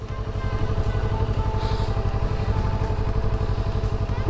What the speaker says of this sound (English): Slowly let the engine take you and walk with it going forward.